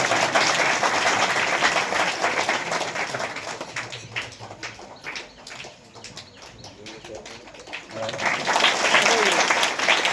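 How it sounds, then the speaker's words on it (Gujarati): Loud applause from a crowd at a village primary school program, strong at the start, easing through the middle and swelling again near the end, with some faint voices mixed in. "જોરદાર તાળીના ગણગણાટથી વધાવીશું આપણે."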